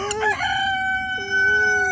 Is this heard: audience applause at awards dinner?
no